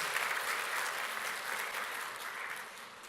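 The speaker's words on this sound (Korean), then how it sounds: "박수 한번 해주시기 바랍니다." A church congregation breaks into steady, dense applause during a Sunday sermon, the clapping sustained and fairly even for the whole stretch with no voices over it.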